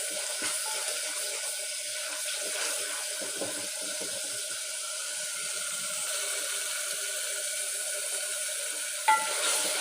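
Masala frying in a pan with ghee, a steady close sizzle with soft scraping from a spoon stirring through it and a small knock near the end.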